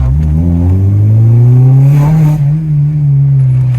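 A 250bhp Honda Civic Type R EP3 engine revs loudly and close, a steady, strongly toned roar that climbs slightly in pitch and holds, with no talking.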